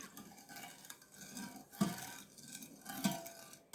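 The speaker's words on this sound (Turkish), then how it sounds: "Şekerimizi döktükten sonra birazcık karıştırıyorum." A spoon stirs sugar into milk for güllaç, a quiet swirling scrape broken by two light clinks against the container, close but faint.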